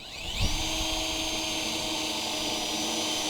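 A power drill bores rivet holes in the body of a Mazda Miata during a custom widebody build, starting with a brief rising whine and then holding a steady, loud, close-up buzz.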